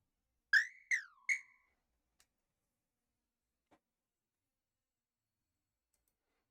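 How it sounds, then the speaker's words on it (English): Whistle in the intro of a song, three short rising synthetic whistle notes, clear and alone, followed by a couple of faint clicks and silence. "Added with this whistle."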